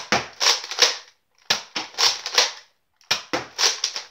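A Nerf blaster fires at close range in three separate bursts, each a quick cluster of sharp plastic clacks and thumps with short silences between them.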